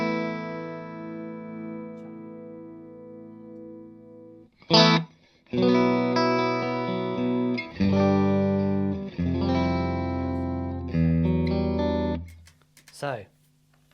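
Clean electric guitar chords ring out through an amp on its lower-gain channel, with a sustained chord first, then several strummed chords separated by brief pauses and a few short stabs.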